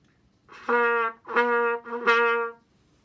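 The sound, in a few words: spitty trumpet tonguing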